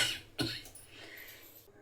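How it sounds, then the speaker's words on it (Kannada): A person who has been ill gives a single short, faint cough indoors, with a little soft breathy noise after it. "ಕೆಮ್ಮು ಸ್ಟಾರ್ಟ್ ಆಗ್ತಾಯಿತ್ತು"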